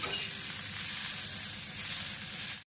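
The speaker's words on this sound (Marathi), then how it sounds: "याच्यामध्ये थोडंसं तेल टाकलं मी आणि हे दाणे छान भाजून घेते" Pigeon pea grains roasting in oil in a pan, with a dense, continuous sizzle and a rapid pulsing crackle heard close and alone before it cuts off abruptly.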